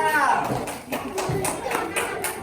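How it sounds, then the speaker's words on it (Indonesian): A classroom of students claps for group 2, a short burst of scattered, uneven hand claps over a few seconds, with a voice and other voices mixed in. "Ya, tepuk tangan untuk kelompok 2."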